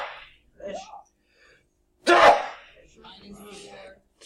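A single sharp sneeze bursts out loudly, with people talking quietly before and after it.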